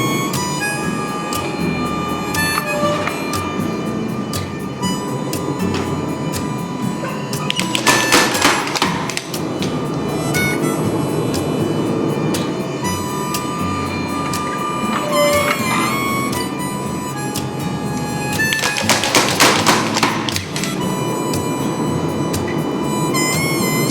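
A hammer forges a hot steel knife billet, ringing blows repeating steadily and loudly up close, with two bursts of heavier, brighter strikes amid a constant roar of background workshop noise.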